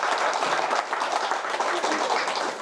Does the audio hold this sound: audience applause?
yes